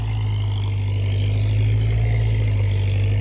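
A big tractor engine runs steadily while working through sticky clay mud in Laos, a loud, constant low rumble with a heavy droning hum and no pauses.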